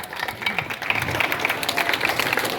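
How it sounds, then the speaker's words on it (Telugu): Students and staff clap at a school Independence Day function, a crowd applauding in uneven bursts with some sharper individual claps standing out, fairly close and loud. "క్లాప్స్ కొట్టండమ్మా."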